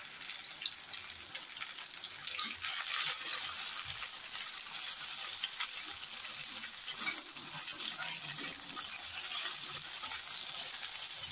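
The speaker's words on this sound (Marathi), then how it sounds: "आता आपण ही चिरलेली भेंडी ह्याच्यात घालून थोडीशी तेलात भाजून घेऊया" Chopped okra sizzles steadily in hot oil, a dense even frying hiss with occasional stirring scrapes, close and continuous with no talking.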